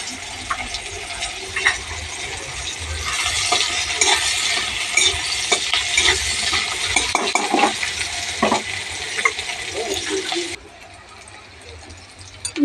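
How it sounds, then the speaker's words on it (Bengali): Panch phoron and onion frying in a pan in a home kitchen, a steady loud sizzle with clattering stirring and utensil scrapes, a voice speaking intermittently, then the sizzle drops away near the end. "এদিকে পাঁচফোড়ন আর পেঁয়াজ ভাজতে দিয়েছি।"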